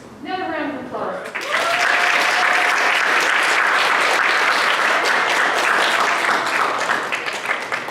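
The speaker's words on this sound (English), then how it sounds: "Another round of applause" A crowd breaks into sustained applause at an honors project celebration, dense and loud clapping that swells in after a brief spoken line and holds steady to the end.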